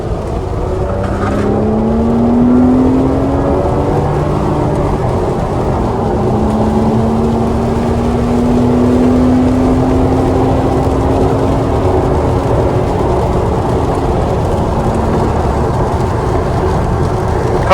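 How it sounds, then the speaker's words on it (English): Flat-six engine car accelerating hard through a cone chicane on a driving course, a loud, close, rising engine note that climbs, eases and climbs again through gear changes for nearly eighteen seconds, with no talk over it. "Can't beat the sound of a flat six, can you?"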